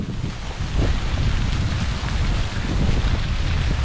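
Rain falling steadily while fishing from a boat, a dense, continuous broadband hiss with some wind noise buffeting the microphone, fairly loud and close, with no talk.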